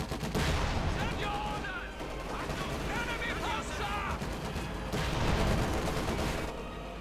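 Continuous battle gunfire from the Company of Heroes 2 video game, with a Sherman tank firing on infantry amid machine guns, loud rattling volleys and blasts throughout, under a steady stream of fast commentary.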